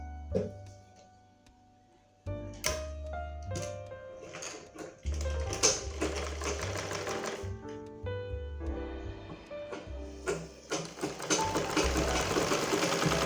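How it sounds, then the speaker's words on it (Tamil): A freshly oiled and repaired sewing machine starts stitching after a brief quiet pause, its motor and needle settling into a steady, close mechanical chatter that grows slightly louder and runs continuously, with no voices. "இப்போ நம்ம தச்சு பார்த்துருவோம்"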